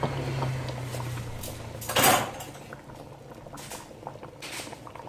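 Oha soup simmering in a covered pot, a soft, continuous bubbling patter with faint lid and pot clinks and a brief louder gurgle partway through.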